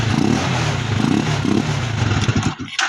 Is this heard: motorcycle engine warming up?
yes